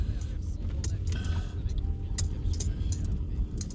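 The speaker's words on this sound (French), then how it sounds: "Ouais, désolé, le bruit du moteur." A car engine rumbles low and steady for several seconds, close by, with faint scattered clicks and rustles on top.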